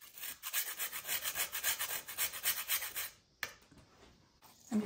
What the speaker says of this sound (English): I keep it in the freezer because it's really easy to grate that way.